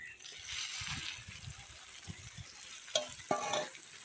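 Chicken goes into a pan of cooked-down spiced masala, making a quiet sizzle and frying hiss with a couple of sharper clatters from the spoon or pan near the end. Faint talking sits under it.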